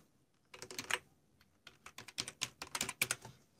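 Quick, close clicks of keys on a keyboard as an email address goes into a sign-up form, tapped in short irregular bursts after a brief quiet start, with no talking.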